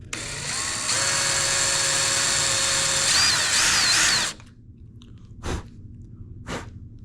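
A power drill whirs steadily for about four seconds at close range, marking holes with a drill bit on a 1990 Ford F350 crew cab for a visor install, then stops; two sharp knocks follow in the quiet afterward.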